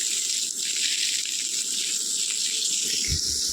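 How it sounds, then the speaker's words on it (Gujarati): Water runs steadily to irrigate a lawn, a constant broad hiss and gush with no pauses, close and fairly loud, plus a faint low thump near the end. "લોનમાં પાણી ચાલુ કરી દીધું છે અત્યારે"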